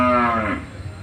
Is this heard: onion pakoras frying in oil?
no